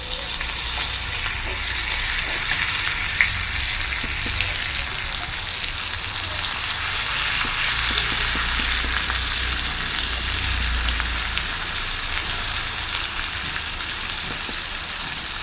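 Tuna (choora) fish frying in a pan, a steady loud sizzle of hot oil running throughout, with brief soft scraping as the pieces are flipped, no talking.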